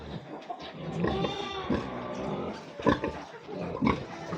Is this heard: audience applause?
no